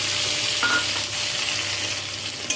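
Tomato puree hitting hot oil tempered with black cumin seeds, for a pabda fish curry, sizzling and frying in a steady close hiss with a brief clatter near the end.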